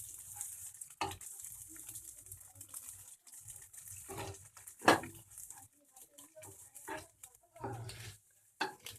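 Eggs stirred and mixed in a hot pan for egg chowmein, a quiet sizzle under scattered scraping and clattering strokes of a spatula at uneven intervals.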